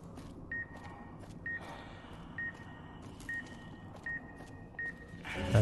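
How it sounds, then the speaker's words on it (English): Fallout: New Vegas game audio: a short high-pitched electronic beep repeats at regular intervals, about seven times, each brief and clear over a low, steady ambient hum, ending with a louder burst. "High pitch beeping."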